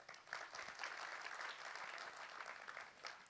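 An audience claps together at a Gujarati comedy talk, giving a dense, steady burst of applause that lasts the whole few seconds, quiet overall and without talk over it.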